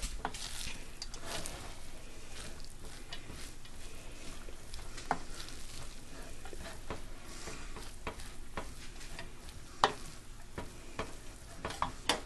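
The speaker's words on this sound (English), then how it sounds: "Now let's just sprinkle in our almonds. Give those a good toss in there." Almonds are sprinkled into an orange-scented fruited rice pilaf and tossed in the pan. Soft, steady sizzling is broken by scattered stirring scrapes, fairly quiet, with no one talking.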